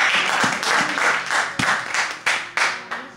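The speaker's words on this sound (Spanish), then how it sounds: "Un aplauso de alegría" A church congregation breaks into joyful clapping, close and fairly loud, in uneven bursts with sharp individual claps standing out and brief lulls between waves.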